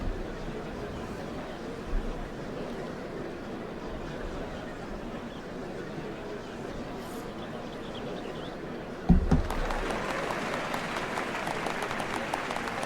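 A large crowd gathers for the changing of the Dawn Servants ceremony in Final Fantasy XIV, forming a dense, steady wash of crowd noise that swells louder and brighter about two-thirds of the way through.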